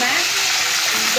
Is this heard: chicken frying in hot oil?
yes